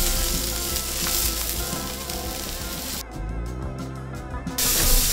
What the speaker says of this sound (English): I'm just gonna let that sear for a couple minutes